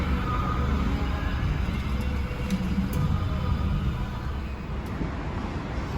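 A Toyota Revo 2023 pickup engine runs with a steady, unbroken drone, close and even throughout, with no voices.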